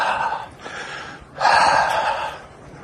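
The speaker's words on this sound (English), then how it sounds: "Griplok is heavy breathing." Heavy, loud breathing in two long, close rasping breaths with a brief gap between them, heard during a disc golf putting round.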